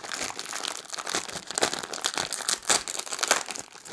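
Close, crisp crinkling of a plastic accessory bag from a US Army MRE as it is handled, in irregular bursts of rustling and crackling with no talk.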